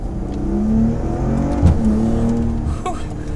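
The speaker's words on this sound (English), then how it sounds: "you can definitely hear that exhaust." A 2019 Maserati Ghibli SQ4 in sport mode gives a deep, steady exhaust drone that swells slightly as it revs, heard close and loud for a few seconds without talk.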